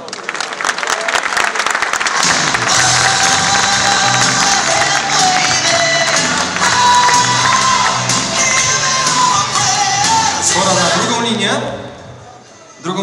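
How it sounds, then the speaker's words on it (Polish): A large crowd at a football club's team presentation claps and cheers loudly for the defenders, roaring steadily with shouts and whoops before fading out near the end. "Brawa do obrońców."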